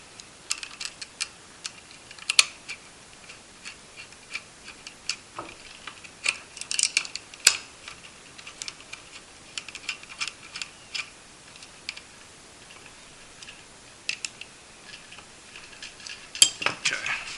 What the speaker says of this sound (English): Keep just placing my bolts.